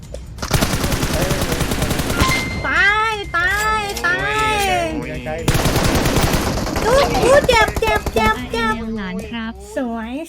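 Automatic gunfire in the mobile battle-royale game PUBG Mobile, bursts of machine-gun shots rattling steadily through the clip beneath excited talk from players.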